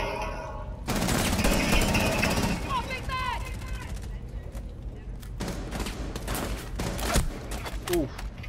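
Rapid automatic gunfire in a first-person shooter video game, a sustained loud burst followed by scattered shots and game effect sounds, with players talking over it.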